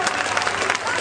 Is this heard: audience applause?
yes